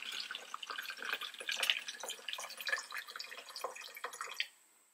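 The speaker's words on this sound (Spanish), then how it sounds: "agarren su agua, le vamos a poner hasta la mitad a la botella" Tap water trickles and drips through a plastic funnel into a bottle, filling it halfway as an isopropyl alcohol cleaning solution is mixed; irregular close splashing drips continue for several seconds, then stop abruptly near the end.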